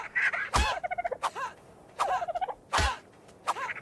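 Chickens in the Ark Survival Mobile video game give repeated bursts of clucking and squawking calls in quick rhythmic runs, loud and close, with no talk over them.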